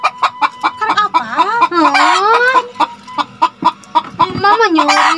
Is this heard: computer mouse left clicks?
no